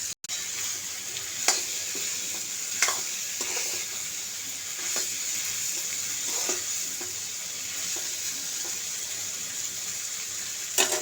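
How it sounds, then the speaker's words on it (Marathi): Chickpeas, potatoes and turmeric stir-fried in a pan give a steady, continuous sizzle, with occasional sharp clicks and scrapes of a spoon against the pan at irregular intervals. "ह्यात आपण चणे टाकून घेऊयात, परतवून घेऊयात."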